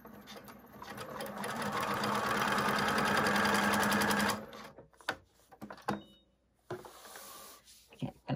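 A sewing machine stitches along a line on a foundation paper pieced pineapple quilt block with a rapid, loud mechanical whir for several seconds, then stops, followed by a few soft handling clicks and rustles.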